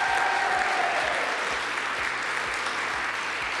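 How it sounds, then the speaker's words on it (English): An audience at a business awards forum claps steadily and loudly throughout, a dense continuous round of applause with no voices over it. "let's give her a round of applause"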